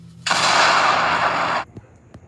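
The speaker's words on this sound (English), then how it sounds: "It exploded." A toy firework goes off in one loud, sustained burst of crackling, hissing noise lasting just over a second, then cuts out abruptly, leaving faint background sounds.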